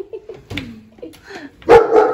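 A dog barks and yips in short bursts, a few quick sharp calls followed by one louder bark near the end, fairly close.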